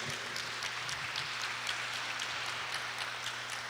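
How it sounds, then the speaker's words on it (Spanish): Church congregation applauding, a steady patter of many hands clapping at moderate distance, continuous and fairly soft, with a low electrical hum beneath. "Aplaude al Señor Jesús"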